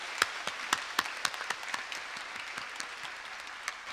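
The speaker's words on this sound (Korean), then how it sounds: "하나님께 영광의 박수를 드리겠습니다." A church congregation at a special early-morning revival service gives a round of applause, with dense clapping and a few sharp louder claps standing out over several seconds.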